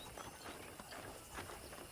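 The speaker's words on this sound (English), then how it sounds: "let's see if you can still ride a horse" A horse clip-clops in Red Dead Redemption on a ranch, its hooves falling quietly and steadily amid soft game ambience, with no one speaking.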